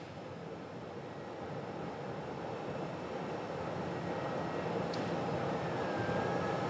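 An aircraft departs Phoenix airport bound for DFW, heard from a distance as a steady engine rumble that swells slowly louder across the stretch.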